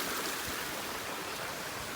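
Rainwater runs downhill across a wide stretch of flooded rice paddies in a steady, broadband rush, close and continuous without a break.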